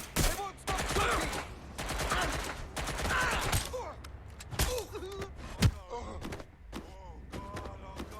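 Enemy gunfire in Watch Dogs Legion, rapid bursts of shots in the opening seconds followed by scattered single cracks and thumps, with game music and effects underneath.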